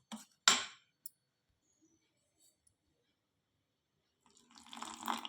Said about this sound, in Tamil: ஃபஸ்ட் கிண்டி விட்டு தண்ணி ஊற்றி பிசைஞ்சுக்கிடுவோம்